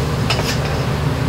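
Fried garlic and green chilli tempering poured into chana masala, heard as a short wet splash and stir with faint clinks over a steady low kitchen hum, no voices.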